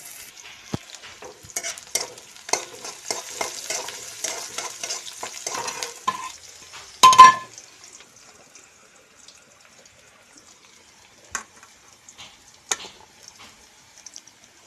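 Onions frying and being stirred in a pan: rhythmic scraping and sizzle for several seconds, a loud clatter near the seven-second mark, then quieter sparse clinks and stirs, with no talk.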